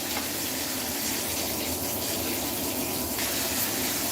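Bathtub tap pouring water steadily into the tub, a constant broad hiss and gush heard close and loud with no talk over it.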